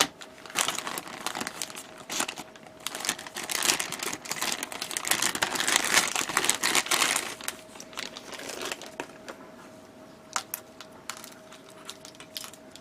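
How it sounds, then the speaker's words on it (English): Crinkly plastic wrapping rustles and crackles off a Bandai 1/1000 U.N.C.F. Andromeda model kit, dense handling noise in the first half thinning to scattered crisp ticks and rustles later, close and with no talking. "Let's unwrap that."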